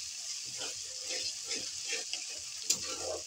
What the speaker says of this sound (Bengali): ভালো করে পেঁয়াজটা নেড়ে নিতে হবে তেলের মধ্যে